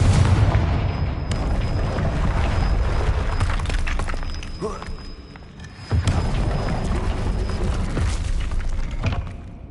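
Fiery Confringo explosion spell cast in the video game Hogwarts Legacy, producing loud, dense booming blasts over a constant rumbling game soundscape that dips briefly midway before surging back.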